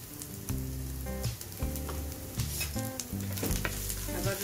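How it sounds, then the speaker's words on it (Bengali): Ground coriander and cumin fry in a pan for lemon chicken, a continuous sizzle broken by rhythmic stirring scrapes roughly every second, close and clear with no talk. "আবারও সবকিছু একটু ভালো করে নেড়ে নিচ্ছি।"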